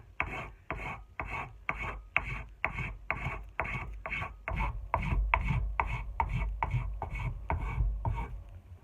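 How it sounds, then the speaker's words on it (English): Steady back-and-forth strokes of a hand rasp shaping a wooden tool handle to fit the tapered eye of an adze or pickaxe head, about twenty close, even rasping passes with no talking. "Take my rasp and make it nice and smooth"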